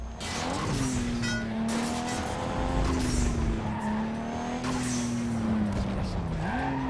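Need for Speed Underground 2 drag race cars: a steady, loud engine drone rises and holds pitch under continuous tire noise, with a shift dip near the end, close and unbroken throughout.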